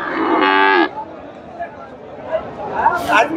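At a busy Chandaikona cattle market, a cow lets out one loud, close moo lasting about half a second, followed by crowd chatter and scattered market noise.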